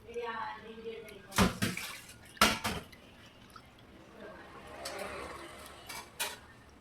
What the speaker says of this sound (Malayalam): നല്ലപോലെ ആ വെള്ളത്തിൽ കഴുകണം മീൻ